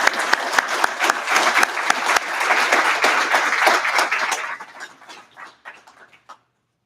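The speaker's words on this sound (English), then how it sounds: "let's give one last round of applause for all these great examples of efficiency" Audience applause at a water-efficiency awards ceremony, a dense steady round of clapping from a crowd that carries for about four seconds, then thins out and fades to silence.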